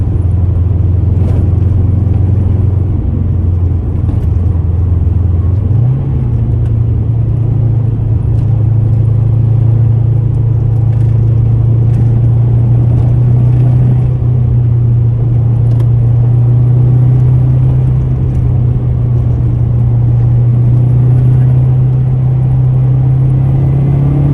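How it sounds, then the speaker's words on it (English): Subaru WRX turbocharged rally-bred car heard from inside while driving, with a loud, constant engine and road rumble and a steady low drone that shifts slightly upward early on, without speech. "There's beautiful turbo sounds coming through the suspension as well."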